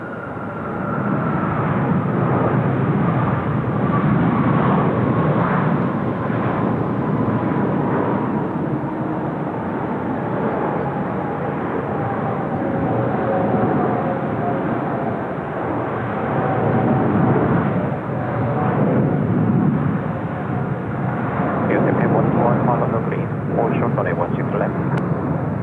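A jet airliner roars steadily at Seoul Incheon Airport, a loud sustained engine rumble and whine with a slowly falling tone, while a voice talks over it.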